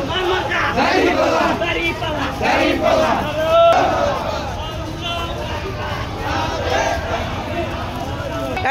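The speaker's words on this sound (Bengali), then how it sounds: "আপনারা দেখতে পাচ্ছেন বিশাল এক ঘন সমাবেশ যাচ্ছে আজকের মিছিল" A large, dense crowd marches in a political procession at a Jamaat-e-Islami divisional rally in Barishal, Bangladesh, chanting and shouting loudly and continuously with overlapping voices throughout.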